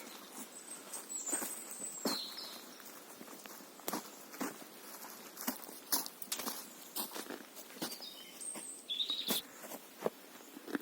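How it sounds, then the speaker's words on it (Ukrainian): Birds chirp in a mixed pine and hornbeam forest, with small high calls near the start and again near the end. They are faint and partly covered by steady close footsteps on the path. "Ось пташечки співають."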